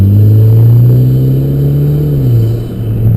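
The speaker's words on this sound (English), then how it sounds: "I'm gonna go ahead and hit the switch and go into sport mode, and you'll hear the difference in the shift points from where I just was" A Mitsubishi Evo MR with a TC-SST automatic gearbox in sport mode holds its revs as the engine climbs steadily, then the pitch drops at a gear change. The close, loud, continuous engine tone plays with no talk.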